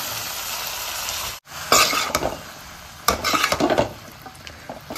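Noodles are stirred in a sizzling pan, with a spatula scraping and clattering against the metal in irregular bursts over a steady frying hiss, close and fairly loud.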